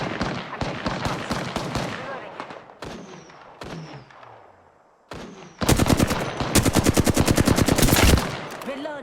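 Rapid automatic gunfire from the video game Apex Legends, played on an MSI GS75 Stealth laptop at maximum settings: several bursts of shots early on, then a loud, sustained fast string of shots near the end.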